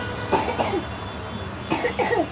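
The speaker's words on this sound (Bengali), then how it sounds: "কাশি আছে কাশিটা এখনো যায় নাই" A young child coughs in two short, close bursts indoors, separated by a brief pause, with a quiet room tone between them.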